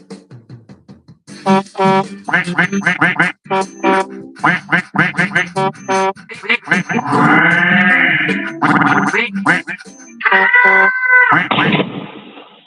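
Duck quacking sound effect played repeatedly, a long run of loud, nasal quacks in quick irregular bursts, some drawn out, filling the whole stretch with brief gaps between them.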